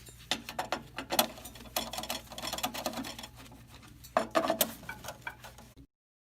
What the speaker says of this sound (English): hex nuts using a 7/16 nut driver